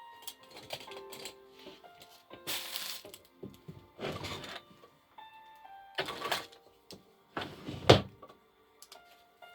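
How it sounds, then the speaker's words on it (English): Scissors snipping a tag off a SHEIN clothing item, a series of separate close clicks and plastic rustles with quiet gaps between them. "I'm gonna cut this tag off."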